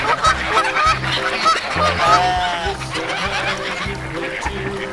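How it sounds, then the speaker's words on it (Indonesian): Goose honks sound repeatedly over a rhythmic, bouncy children's song, the calls fairly loud and close, coming from a toy goose pulled from a blue surprise egg. "Ini angsa."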